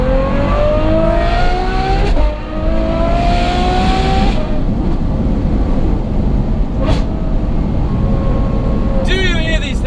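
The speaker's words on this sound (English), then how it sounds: "The exhaust tone on this thing, I've got to say, it must be closer to being in the receiving end of a fighter jet engine to the face." A Ferrari F12 fitted with a Novitec N-Largo kit and exhaust roars loudly and steadily, revving and rising in pitch through gears at close range, with a brief dip before the engine builds again.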